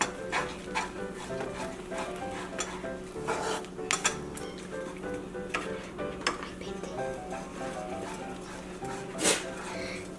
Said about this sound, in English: So just keep mixing all around, do a good method of mixing, and make it into a nice thick mixture.